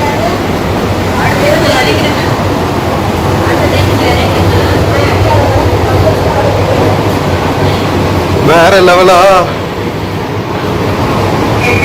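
A new AC suburban train runs between Chennai Beach and Chengalpattu with a loud, continuous rushing rumble inside the carriage, while someone talks over it and a brief whining squeal rises near the end.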